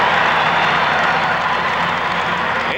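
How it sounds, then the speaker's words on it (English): Silverdome arena crowd at a 1986 Pistons–Lakers NBA basketball game roars with sustained cheering and applause, a dense, loud wall of noise holding steady throughout. "the Pistons have given the Silverdome crowd something to cheer about early here"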